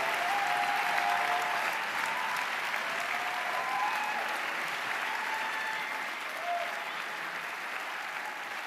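At the Amadeus Austrian Music Awards 2022, an audience keeps up dense, sustained applause as a band is welcomed on stage, loud and continuous and slowly easing off toward the end.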